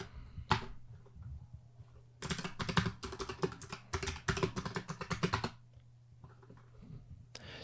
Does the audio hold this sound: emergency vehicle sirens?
no